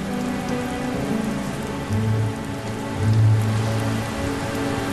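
Heavy rain pours steadily on a surface, a dense broadband hiss with low tonal hum underneath, continuous and fairly loud throughout.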